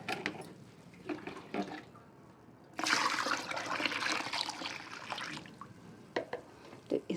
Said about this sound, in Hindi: मैं इसमें पानी और मिला दे रही हूँ